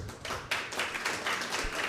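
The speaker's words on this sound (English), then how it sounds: "clap if you've worked at a restaurant before" A comedy club audience claps at a live stand-up show, a dense, steady patter of many hands filling the room for about two seconds with no talk over it.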